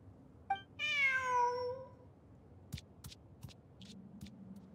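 A cat meows in the video game Genshin Impact, a single drawn-out, clear meow near at hand, followed by scattered soft taps and clicks over a quiet background.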